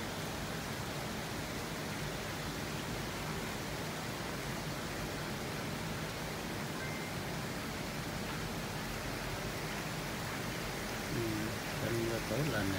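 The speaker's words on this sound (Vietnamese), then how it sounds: "cơn mưa chiều trắng xóa." Heavy afternoon rain in Saigon pours steadily in a dense, even wash of hiss that stays constant throughout, with faint background sounds near the end.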